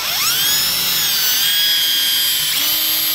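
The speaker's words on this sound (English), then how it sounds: "Got my little bit here. Do a nice countersink bore." A power drill whines steadily at high speed as it bores a countersink hole in a boat under construction, loud and close with a slight pitch dip partway through.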